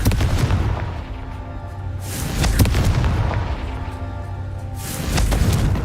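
Confringo fire spell blasts in the Hogwarts Legacy video game: a few deep booming explosions at intervals over a low rumble, loud and close, with no talking.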